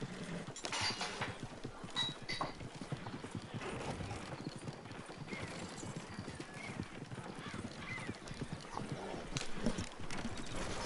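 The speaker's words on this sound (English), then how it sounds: "with a horse that doesn't lose stamina, you can literally run him without having to worry about running him to death." A horse gallops across open ground in the video game Red Dead Redemption 2, its hooves beating a fast, steady clip-clop rhythm throughout, with a brief whinny and faint game sounds underneath.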